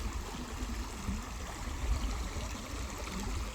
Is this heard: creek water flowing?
yes